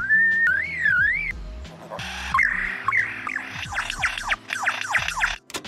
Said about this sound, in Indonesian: Burung kecapi memiliki suara yang sulit dipahami dan tidak mudah dikenali.